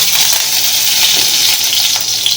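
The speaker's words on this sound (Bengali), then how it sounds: "কারি পাতা ফোড়ন দিলাম।" Curry leaves sizzling in hot ghee, a loud, steady crackling hiss that stays unbroken throughout with no talking.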